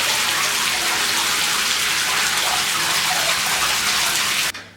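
Lukewarm water runs from a tap into a bathtub, filling it a few inches deep for bathing a cat; a steady, loud, close rushing gush continues without pause before cutting off abruptly at the end.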